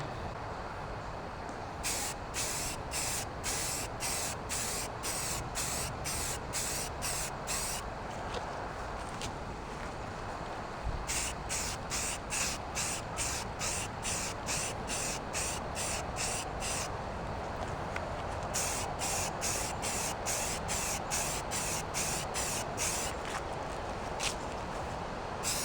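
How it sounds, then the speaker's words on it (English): Can of camo green Rust-Oleum spray paint applied over a Plasti Dip coated rim piece, a series of short hissing spray bursts in rhythmic groups with brief pauses, close and fairly quiet, over faint background noise. "now we're going to go ahead with the camo green Rust-Oleum spray paint"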